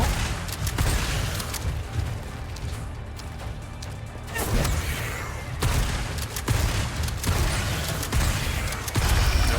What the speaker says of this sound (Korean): 빠르기는 이런 식으로 쏘고 패링할 수 있어요.